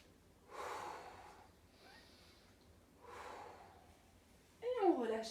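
Sharp breaths pushed in and out through the nose during an abdominal workout, two strong bursts about two seconds apart followed by a louder, rougher exhale at the end, close and fairly quiet.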